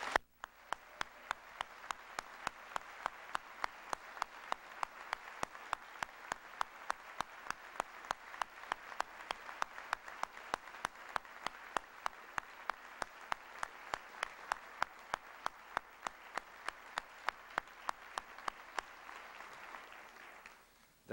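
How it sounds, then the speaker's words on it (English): A crowd at a school baccalaureate ceremony applauds steadily for about twenty seconds, dense clapping holding a constant level with no voices over it. "That round of applause"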